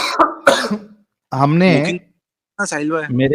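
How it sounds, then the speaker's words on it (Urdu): Two sharp coughs from someone sick with a viral fever, harsh and close, followed by someone speaking in Urdu. "یہ کھانسی مجھے ایکچولی وائرل فیور ابھی ہوا تھا"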